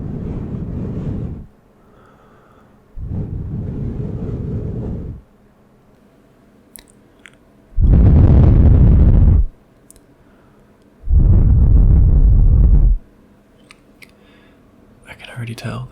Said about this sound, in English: going to blow gently into the microphone